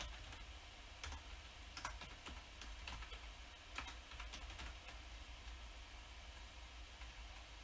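Brisk typing on a computer keyboard while writing C# code for GTA V mods, with irregular clusters of sharp key clicks over a steady low hum and no talking.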